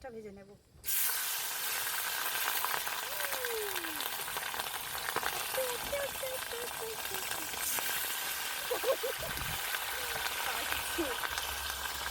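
Papad frying in hot ghee outdoors on a rainy day by a pond: a sudden steady sizzle starts after a brief quiet opening and keeps going, with a few faint chirps and light clinks over it.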